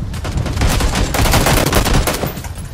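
PUBG gunfire in a dense, continuous burst of rapid shots, loud and close, crackling steadily for a few seconds with no talk.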